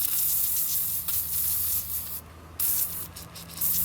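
Aerosol cleaner sprayed onto moss on a 1963 Pontiac Grand Prix, a steady close hiss running nearly continuously with a brief pause partway through before the spray resumes.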